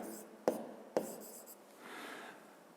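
A pen writing by hand on paper, noting figures for a school physics exercise: two sharp taps, then a faint, close scratching stroke in a quiet room.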